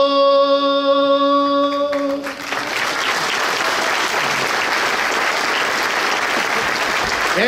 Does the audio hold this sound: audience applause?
yes